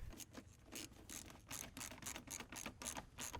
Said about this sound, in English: Now, reinstall the intake ductwork and tighten the clamps.